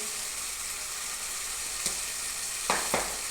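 Tomatoes frying in a pan as turmeric and chili powder go in: a steady broadband sizzle throughout, with a few sharp stirring or spoon taps near the end, no talk.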